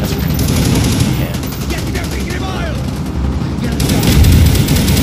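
Heavy gunfire in Call of Duty: Black Ops: loud, sustained bursts of rapid automatic shots with rumbling combat noise, pausing briefly before another intense volley, with voices underneath.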